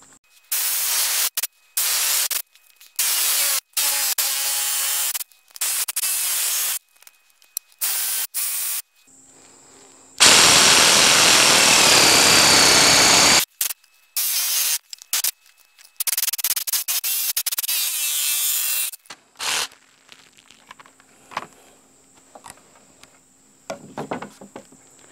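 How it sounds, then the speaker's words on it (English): A jigsaw cuts through a wooden roof rafter for a goat barn on a hillside homestead. Harsh, hissing bursts of cutting start and stop repeatedly, with one longer, louder stretch in the middle. "I'm going to go ahead and cut this first rafter with a jigsaw"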